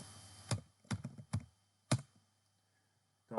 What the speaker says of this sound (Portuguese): Vou digitar aqui um comando.